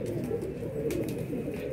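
Soft, low cooing of pigeons close by, a steady murmuring purr over faint background noise.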